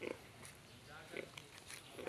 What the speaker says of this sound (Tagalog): nay baboy diri, lunang ram ning baboy diri oh